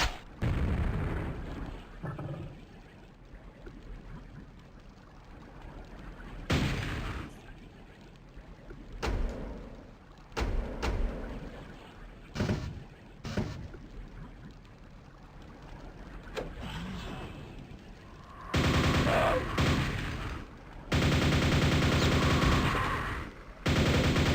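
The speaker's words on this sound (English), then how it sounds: "I do like the way the guns sound in this game." Gunfire and explosions in the first-person shooter Quake, played in VR: sharp, heavy shots and booming blasts spaced irregularly, with loud sustained bursts of fire near the end, fairly close and without talk.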